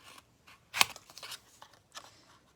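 Scissors snip through paper while cutting out a piece for a birthday card, with a few quiet close cuts and one sharp louder snip early, then sparse rustling.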